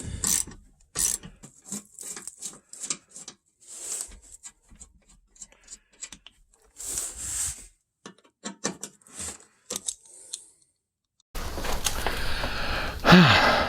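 Screws come out of a Promaster City headlight assembly with a run of close ratcheting clicks and brief mechanical rattles, separated by quiet gaps, before a louder burst of handling noise at the end.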